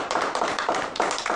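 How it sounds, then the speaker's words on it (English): Hands clapping in a classroom activity, a quick run of light, close claps with a steady tapping rhythm, no voices over them. "Oh, you have to clap hands."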